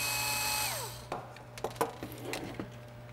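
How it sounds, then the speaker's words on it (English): A power driver whirs briefly and winds down while undoing the cover screws on an RC car. It is followed by several light clicks and knocks as screws and small parts are handled, close by and fairly quiet. "There's 6 bolts or 6 screws. Go ahead and undo those."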